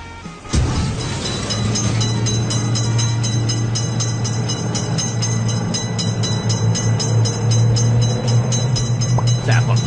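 After a sharp onset, a train in the Railroad Crossing mobile game thunders steadily and loudly past a crossing for the rest of the stretch, with a constant low drone and regular rhythmic clicks.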